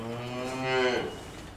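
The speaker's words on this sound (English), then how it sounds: "report to a distressed cow at the University of Washington" A distressed cow, stuck in a fraternity house after being brought up the stairs, lets out one long, loud, strained moo that rises and then fades, heard alone.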